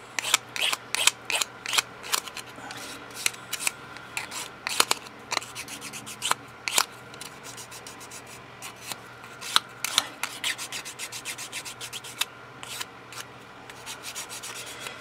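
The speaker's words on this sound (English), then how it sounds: "And you can see it doesn't take a lot of sanding" Short, scratchy rubbing strokes of sanding polymer clay flower edges come in quick irregular bursts, close by, with brief pauses between them and no voices.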